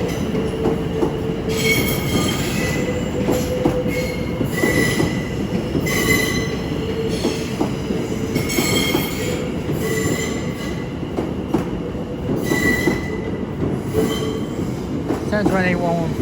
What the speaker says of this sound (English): a terminating London Overground service comes in from Enfield down